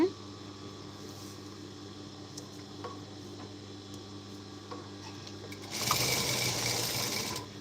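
A sewing machine stitching a blouse runs in a steady, faint mechanical whir with light ticking, then a brief louder burst of rapid stitching near the end.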